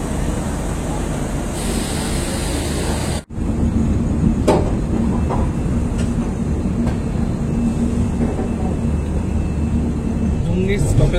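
Guwahati Garib Rath Express (12517) pulling out of Bandel Junction platform 3, a steady loud rumble of the moving train with a brief dropout early on, faint squeals and clanks later.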